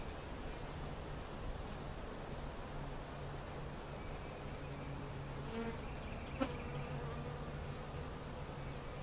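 Aggressive honey bees swarm around an inspected hive after a cutout, with a dense, steady buzz that fills the whole stretch at close range and carries no speech.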